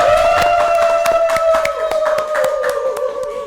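Scattered hand claps ring out over a sustained tonal music bed, a small crowd applauding for a few seconds.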